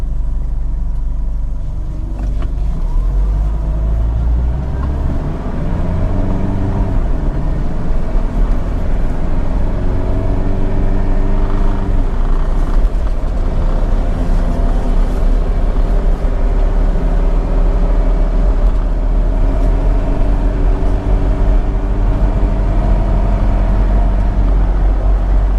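A 2005 first-generation Ford Everest 2.5 automatic SUV accelerates on a highway. Engine drone and tyre rumble rise steadily from inside the cabin as the revs climb and the gears shift.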